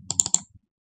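Four quick clicky computer keyboard key presses in a tight cluster, close and crisp, then silence.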